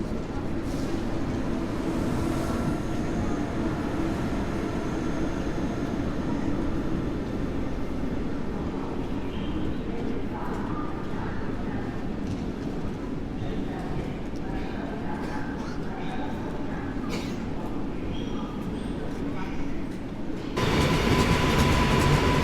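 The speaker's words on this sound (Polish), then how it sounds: "Dwa składy piętrowe kolei mazowieckich" Two Koleje Mazowieckie double-deck passenger trains pass at Warszawa Zachodnia station under construction, a loud continuous rumble and rail roar lasting throughout, growing heavier near the end, with voices faintly underneath.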